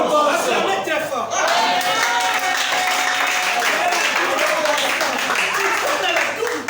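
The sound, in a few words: crowd applauding and cheering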